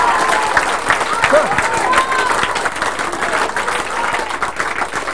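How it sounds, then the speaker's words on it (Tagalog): A church congregation at a worship service applauds in a loud, sustained wash of clapping, with cheering and crowd voices mixed in throughout. "Palakpakan po natin, Panginoon."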